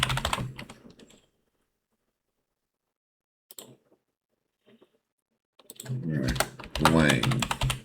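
Quick bursts of clicking on a computer keyboard come in short spurts separated by silence, and a voice speaks briefly over the final stretch of typing.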